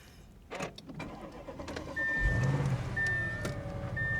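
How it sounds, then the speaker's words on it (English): A Chevrolet Corvette engine cranks and catches about two seconds in, then settles into a steady, loud idle close by, with a bright warning chime sounding repeatedly over it. "Engine sounds pretty good."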